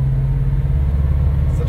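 A tuned Subaru STI with a 2.6L engine and stock exhaust pulls from low revs in sixth gear, giving a deep, loud, steady drone heard from inside the car.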